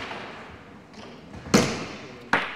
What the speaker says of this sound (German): Geblockter Schuss, aber wieder so scharf, dass der einfach aus dem Tisch rausspringt.